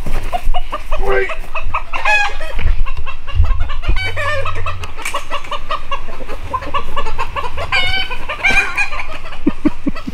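A chicken clucks and squawks in agitation while being chased, its calls repeating loudly over rustling movement, with brief human voices mixed in.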